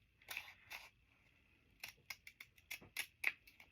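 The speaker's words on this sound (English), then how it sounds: "I'm not doing a completely straight cut. I'm kind of curving it around" Scissors snip paper in a curved line for removable corner tucks made from gelli prints, two quiet cuts followed by a quicker run of short snips, close and faint with no talking.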